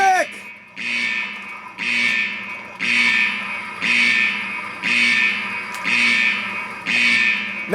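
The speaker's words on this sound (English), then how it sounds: "Now we need to get the alarm off." A loud electronic alarm blares in repeated pulses, about once per second, with a harsh buzzing tone and some echo.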